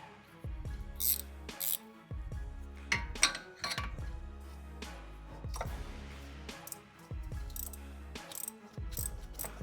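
Ratchet wrench with a 17 mm socket tightening power steering pump bolts on a 2007 Lexus RX350 with the 2GR-FE V6, giving close, repeated bursts of quick metallic clicking with short pauses between strokes.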